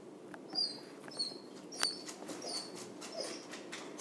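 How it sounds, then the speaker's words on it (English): Dogs whine indoors in a string of thin, high-pitched whimpers and squeaks, some brief and some drawn out, fairly soft against a quiet room. "Sorry about the whiny dogs."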